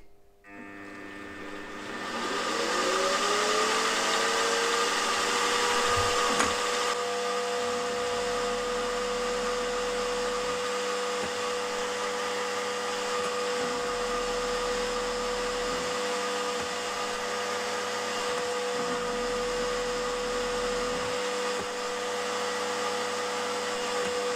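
A milling machine spins up to a steady high whine while cutting a channel in metal, with periodic low grinding passes under the constant motor tone.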